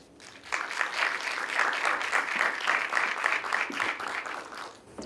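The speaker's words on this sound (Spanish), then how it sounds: "recibámoslo con un fuerte aplauso" An audience at a book fair in Mendoza breaks into warm applause to welcome a speaker, steady dense clapping that swells after a quiet start and fades at the end.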